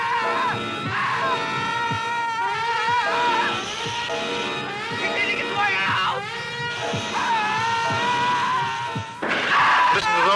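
Screams from The Flesheaters, a 1960s horror film trailer: repeated loud, wavering human shrieks and cries layered over one another, with thuds and a voice talking in between.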